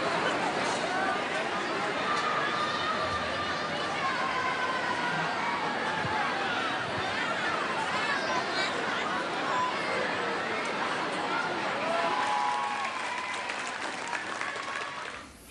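A large outdoor crowd cheers and applauds the Dutch royals, a dense, sustained wash of clapping and shouting with whistles and chatter mixed in, staying loud before tapering off at the end.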